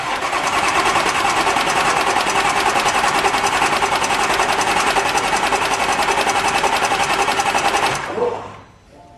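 A Porsche Macan engine cranks over without firing, a loud, fast, even chugging from the starter that runs for about eight seconds and then cuts off abruptly.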